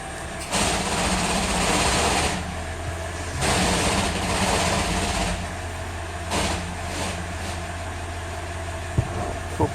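A car engine idles with the power steering pressure pipe leaking at a cross-threaded fitting, giving a steady near rumble that swells slightly in a few places and carries on without any talk.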